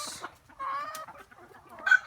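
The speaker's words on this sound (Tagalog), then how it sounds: "Si Tandang." A rooster on a native chicken farm gives a short crow-like call mixed with clucking from nearby fowl, fairly loud and close, with a brighter squawk near the end.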